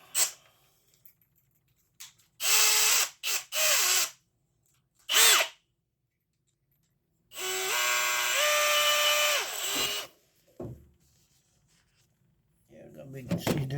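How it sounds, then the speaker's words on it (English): A hammer drill runs in several bursts, driving screws into the burners of a Carrier furnace during a propane conversion: three short whirring pulses, then a longer sustained run with shifting pitch, loud and close, with brief speech around it. "Go ahead and drill them in. There's one. Hammer drill."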